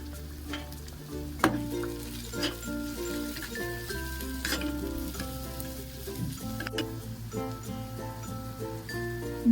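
Turmeric and red chilli powder roasting with garlic in a pan for karela sabji, a low sizzle with occasional spoon clinks and stirring scrapes, close by, alongside a steady tonal hum.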